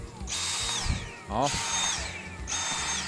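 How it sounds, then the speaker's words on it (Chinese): A power screwdriver drives screws into the back cover of a Dyson vacuum cleaner during a repair, whirring in three close bursts with brief gaps, while someone speaks briefly over it. "把这些螺丝都接好，最后把这个后盖"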